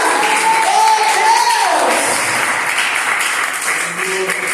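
A church congregation applauds steadily and loudly at an Easter service, the clapping filling the room as voices sing or call out over it.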